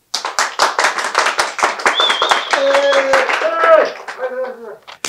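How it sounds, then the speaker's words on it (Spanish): An audience gives short bursts of hand clapping during a Mexico vs Saudi Arabia prediction segment. The claps are fast and fairly close, and a voice and some tonal sounds overlap in the middle. "Que aplaudan."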